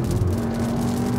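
A Cupra Formentor VZ engine pulls steadily as the car accelerates past a truck on the road, giving a brief, close, even hum with no voices.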